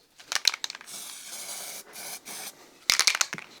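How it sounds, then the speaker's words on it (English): Short bursts of zinc aerosol spray hissing into a container, a few quick puffs, then longer sustained sprays, close up with pauses between. "I'm going to use some zinc spray, but I'm not going to spray it on. I'm just going to spray some into this."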